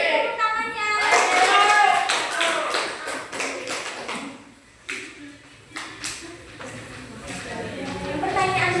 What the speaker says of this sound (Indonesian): Tepuk tangannya.